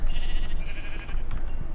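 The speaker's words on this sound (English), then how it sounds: "Now it's time to kill some sheep." Sheep bleating in the video game Minecraft, several overlapping bleats repeating close and loud over a steady background for the whole stretch.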